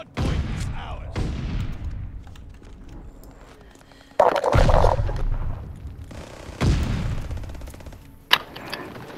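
Enemy gunfire in Call of Duty Vanguard: several loud, sharp shots and booms land in bursts, each trailing off into a decaying echo, with no talk.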